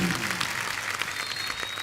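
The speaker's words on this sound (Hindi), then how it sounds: "कॉन्फिडेंस के लिए तो तालियां बनती हैं।" Studio audience on a television comedy show bursts into applause, a dense wash of many clapping hands, steady and fairly faint, filling the whole moment.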